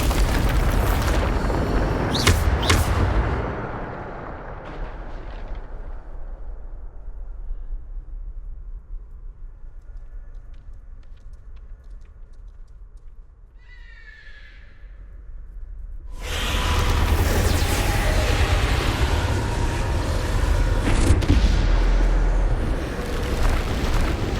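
Bombarda explosion spell cast in the Hogwarts Legacy video game, a loud booming blast with rumbling debris that fades to a low hum, then another heavy roaring burst.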